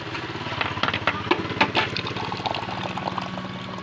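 Water splashes and gushes steadily from a water dispenser while a small motor or pump hums underneath, close and moderately loud.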